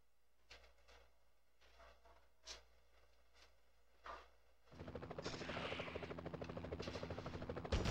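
A helicopter in the PS1 Spider-Man video game thrums with a steady rotor chop, quiet at first beneath faint game sounds, then swelling sharply into a loud, continuous rumbling drone.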